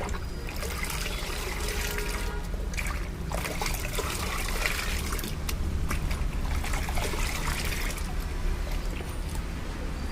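Steady trickling and sloshing of water as fruit fertilizer is mixed into a bucket of water, continuous and close for the whole stretch.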